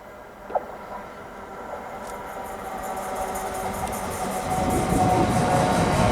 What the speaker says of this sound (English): Incoming now, we should have the 1318 LNER service to London King's Cross from Leeds.